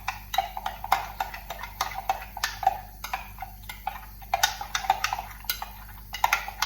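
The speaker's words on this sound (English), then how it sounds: "you're just going to stir that then in the jug and just blend it together" A spoon stirs a brandy sauce mixture in a jug, giving a steady run of quick clinks and taps against the sides, close and fairly bright, with no talking.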